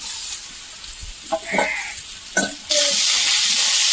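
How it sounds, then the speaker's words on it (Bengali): Leafy greens added to fried potatoes in a pan sizzle and crackle, with stirring scrapes, then erupt into a loud, sustained hiss as the greens hit the hot oil, close up with no speech. "আলুটা আমার ভাজা ভাজা হয়ে গেছে। এবারে আমি কিন্তু শাকটা দিয়ে দেবো।"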